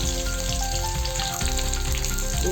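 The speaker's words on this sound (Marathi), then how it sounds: "हिरव्या मिरच्या हिरव्या मिरच्या परतल्या की त्यामध्ये कढीपत्ता" Green chilies and curry leaves frying in hot oil for chapati bhuga, a steady close sizzle with soft stirring scrapes throughout, no voices.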